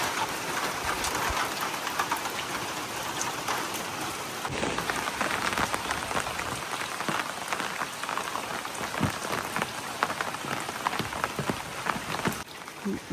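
Steady rain pours down on a village setting, a dense, continuous hiss of drops striking surfaces with scattered louder splashes, close and unbroken throughout.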